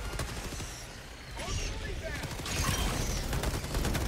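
Rapid turret gunfire rattles in the Helldivers 2 video game, a dense fusillade of repeated shots with mechanical clatter, loud and continuous across the moment, with a voice speaking over it.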